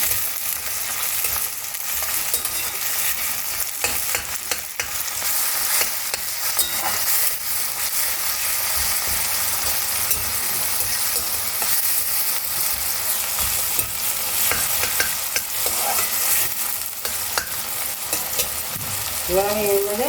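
Small chopped tomatoes frying in hot oil in a pan for Bengali chickpea and potato curry, a constant crackling sizzle with repeated scraping stirs of a spatula against the pan throughout.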